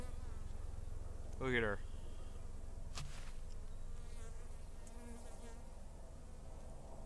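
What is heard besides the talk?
honey bees buzzing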